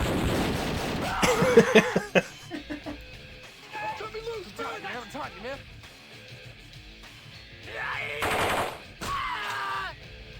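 Gunfire from a DOS full-motion-video game comes in a loud burst early on, followed by dialogue and groans from the game, then another stretch of noisy shooting near the end.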